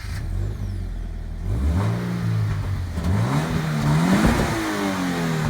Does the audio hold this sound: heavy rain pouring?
no